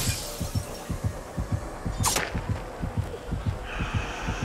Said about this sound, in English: The basement always makes the fucking heartbeat noise.